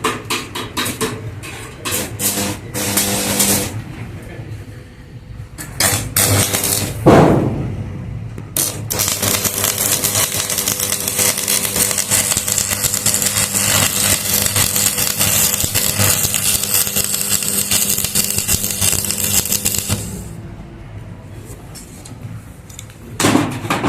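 Arc welder laying a run bead on steel, a steady loud crackling hiss that holds for about twelve seconds, with scattered clanks and handling noise before and after the burn.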